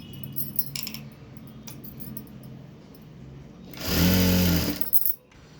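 Sewing machine stitching blouse cloth, a faint soft patter first, then a loud burst of rapid whirring stitching lasting about a second before stopping abruptly.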